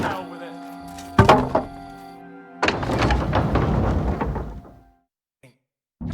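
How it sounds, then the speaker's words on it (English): Heavy castle gate in Kingdom Come Deliverance 2 thudding open, a loud thunk followed by a long rumbling grind that fades out, with game ambience and voices around it. "Now just to open that gate."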